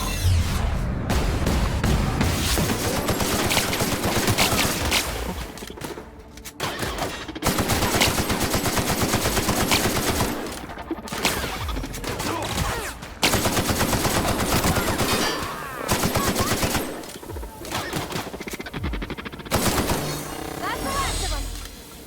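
Sustained gunfire from the sci-fi role-playing game The Outer Worlds, loud rapid shots and bursts layered over game music and effects, nearly unbroken with short gaps.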